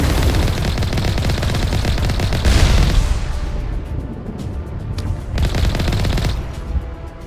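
Heavy gunfire in the Mass Effect 1 video game: loud, sustained rattling bursts that ease off briefly and then resume at full force, with no talk over them.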